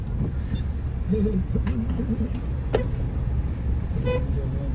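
Four-wheeler car driving, a steady low engine and road rumble heard from inside the cabin, with a brief horn toot and faint voices under it.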